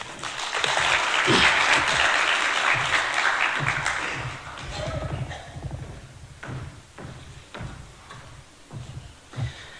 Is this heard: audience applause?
yes